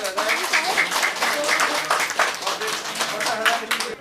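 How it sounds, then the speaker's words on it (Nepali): An audience claps to honour a donation handover at a dohori singing event, a dense ongoing patter of hands with a voice speaking over it throughout. "जोरदार तालीसहित सम्मान गर्नु"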